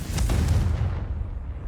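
A Confringo fire spell explodes in Hogwarts Legacy, a loud booming blast with a deep rumbling low end that fades away over under two seconds.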